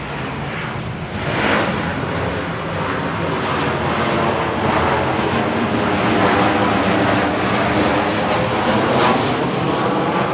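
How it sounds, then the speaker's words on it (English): Steady, loud broadband engine roar of aircraft passing overhead, sustained without break across the whole stretch, no talking. "the planes are still coming for me"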